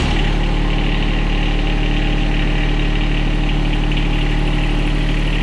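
A John Deere X758 lawn tractor with a 0.9 liter engine idles steadily and loudly up close, a deep, even diesel-like rumble with constant vibration throughout and no talking.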